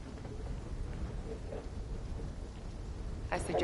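Thunderstorm in the Black Ops 3 video game: a steady wash of heavy rain with a low thundery rumble throughout, and a brighter crack or splash building near the end.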